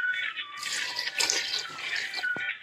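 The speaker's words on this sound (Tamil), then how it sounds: "இப்ப இதுல 3 கப் தண்ணி சேர்த்துக்கோங்க." Three cups of water pour steadily into two cups of basmati rice in a cooking pot for egg biryani, a continuous close splashing stream lasting a few seconds with no talking.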